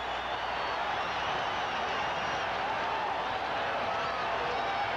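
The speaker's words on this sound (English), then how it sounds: "This crowd has come to life here," A football stadium crowd at the 1982 LSU vs Alabama game in Birmingham cheers in a steady, dense roar that holds unbroken throughout, distant and washed out.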